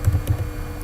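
Brief keyboard typing while HTML and CSS code is entered, a few quick soft keystrokes close by in a quiet room.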